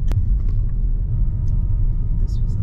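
Car cruising along a narrow Scottish single-track road, a steady low engine and road rumble throughout with faint chirps on top and a brief voice near the start.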